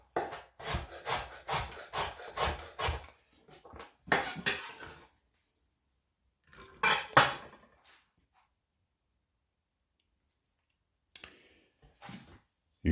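Quick series of knife chops striking a cutting board, a rhythmic run of sharp knocks followed by scattered single chops and scraping, close and clear.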